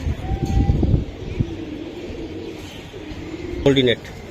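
A female Budapest pigeon gives a short, throaty coo near the end, over a murmur of background voices and noise at a pigeon sale.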